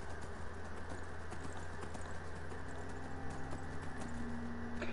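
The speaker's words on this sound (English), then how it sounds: "Horses make me happy. They're so cute. The game looks better when you're on the back of one." Steady clip-clop of a horse's hooves while riding through a video game, a regular rhythmic beat under a continuous low hum and background game ambience, with no talking.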